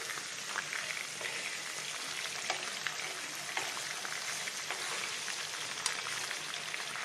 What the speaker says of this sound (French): Donc, vous commencez à cuire côté peau